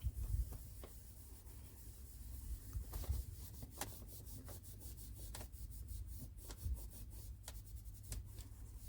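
Polishing compound rubbed in circles by hand on scratched piano black interior car trim, a steady soft scuffing with faint repeated strokes, close and quiet, no talking.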